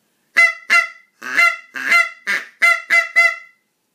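A hand-blown goose call imitates geese with eight loud, sharp honks in quick irregular succession, close and clear against silence.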